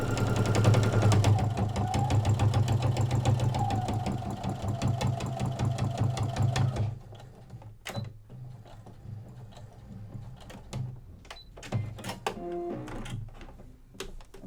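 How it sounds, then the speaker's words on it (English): A sewing machine runs a long decorative stitch on a onesie, a steady continuous whir for the first seven seconds, then stops and gives way to a few short clicks and clunks. "if you were finding that this was leaving you with a really small stitch on your machine, you definitely can increase your stitch length"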